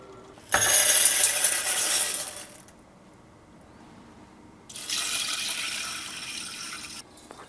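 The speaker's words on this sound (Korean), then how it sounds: "요럴 때 물을 조금 담가 놓으면 돼요." Water pours in two bursts into a container to soak cut vegetables and stop them browning, a loud splashing fill that stops, leaves a short quiet gap, then starts again.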